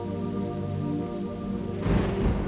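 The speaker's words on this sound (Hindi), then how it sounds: "उस दिन भी ऐसी ही बारिश हो रही थी।" Rain falls with a continuous hiss that begins under a sustained tonal hum and then swells into a louder, denser wash of drops in the final second.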